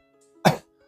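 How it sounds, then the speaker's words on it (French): A single sharp cough bursts out loud and close in an otherwise quiet moment, one short harsh burst that fades quickly. "Excuse-moi, j'ai toussé."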